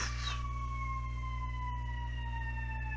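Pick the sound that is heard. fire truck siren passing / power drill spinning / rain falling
fire truck siren passing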